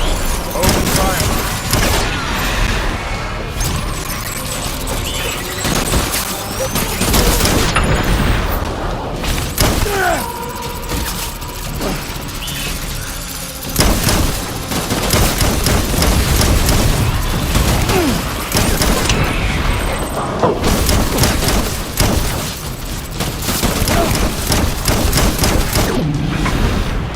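Heavy battle gunfire rattles in Death Stranding, sustained fusillades and booms rolling on and off across the stretch, loud and close, with voices shouting between bursts.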